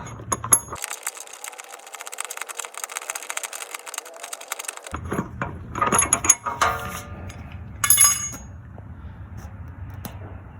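A ratchet clicks rapidly and steadily while loosening a rear bumper bolt on a Jeep Wrangler JK, followed by metallic clanks and scraping of tools and parts nearby.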